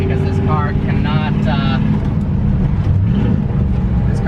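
Ford Shelby GT350 engine droning loud and steady from inside the cabin while driving and slowing toward a downshift, with a brief voice heard early on.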